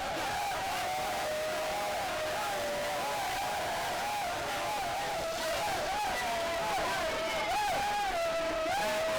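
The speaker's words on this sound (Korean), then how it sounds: "환호하는 건지 야유하는 건지" Football crowd at a match in Ghana, a dense, continuous roar of massed voices with rising and falling whoops and shouts that swell near the end, sounding close and steady throughout.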